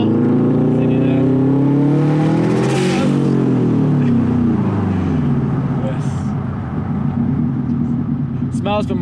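A Subaru WRX STI engine revs hard during a ride-along, heard from inside the car: a loud, sustained roar whose pitch climbs and falls through the gears, with a sharp burst near the end.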